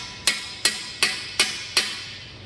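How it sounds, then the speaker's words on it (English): A hammer taps an aluminum armor plate five times at an even, unhurried pace, with sharp metallic strikes close up and no talking. "Honestly, you could probably switch to a larger hammer at this point."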